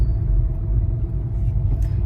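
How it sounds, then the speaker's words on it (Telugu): Road traffic rumbles past on a busy road, a steady, dense low drone of car and engine noise with no voices over it. "ఏంటి బాబు అంత ట్రాఫిక్"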